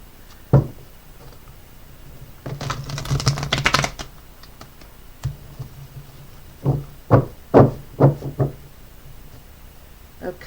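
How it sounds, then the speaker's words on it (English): Tarot cards being shuffled by hand, a dense riffling burst in the middle followed by a series of separate sharp taps and snaps as the deck is squared and handled, close and clear with no talk. "one more shuffle and then we'll cut it and pull some cards for you"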